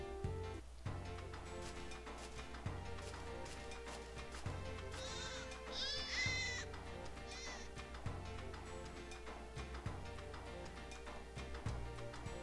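Sheep bleating in the video game Grandia II, several high wavering calls over a looping background score with ticking beats.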